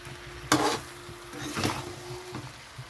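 Fried cauliflower florets get tossed with salt and turmeric in a pan, giving a few distinct scraping stirs and clatters of the spatula over a soft, steady sizzle.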